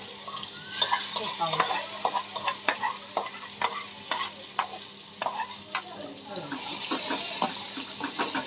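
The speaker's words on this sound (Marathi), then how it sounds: "तूप टाकलंय त्याच्यामध्ये हे आपल्याला मिश्रण टाकायचं आहे आणि फ्राय करून घ्यायचं आहे" A cooked green pea mixture fries in ghee over low heat, a continuous sizzle punctuated by repeated sharp scraping and clacking strokes of a spoon against the pan, close and fairly loud, with no voices.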